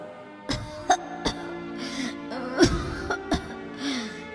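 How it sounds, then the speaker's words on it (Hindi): A cartoon character coughs several sharp times in an uneven series, with some throaty sounds and heavy breathing between them, fairly close. "ये कैसी खांसी है?"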